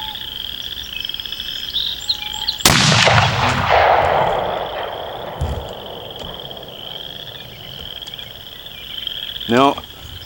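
A single sharp rifle shot from a Savage Axis II chambered in .30-06 cracks out loud and close, then decays in a long rolling echo across open ground, with frogs or insects calling steadily in the background.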